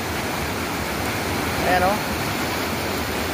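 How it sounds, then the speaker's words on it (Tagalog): Steady broadband rush of clear water flowing in the Bagsit River in Zambales, close and continuous, with someone speaking briefly over it. "pandinig itong pagaspas ng tubig."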